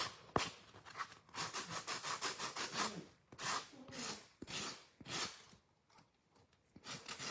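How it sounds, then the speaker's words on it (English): Paint being sanded off a painted tin: close, repeated abrasive rubbing strokes in a steady back-and-forth rhythm, pausing briefly now and then. "don't worry about the paint that I'm sanding off"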